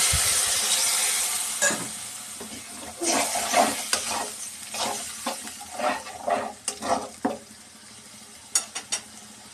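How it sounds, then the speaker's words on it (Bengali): Spices with turmeric, salt and a little water are sautéed for a chicken curry with cauliflower, a gentle sizzle under repeated scraping and clinking of a spoon against the pot in an uneven rhythm. "ভালো করে মশলাটা কষিয়ে নিব।"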